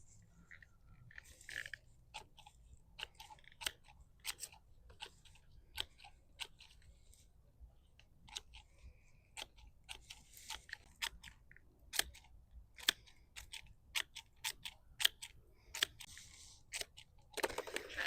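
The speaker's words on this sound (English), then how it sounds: "And then what I'm going to do is snip away these roots." Scissors snipping the dried roots off an elephant ear tuber being cleaned for overwintering, a long series of sharp, close crisp snips at uneven intervals, quiet between cuts, with no talking.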